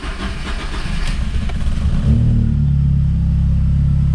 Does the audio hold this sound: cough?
no